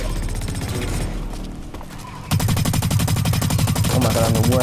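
Automatic gunfire from the stealth shooter Splinter Cell Blacklist rattles in rapid, dense bursts, swelling louder partway through and continuing steadily to the end, with no talk over it.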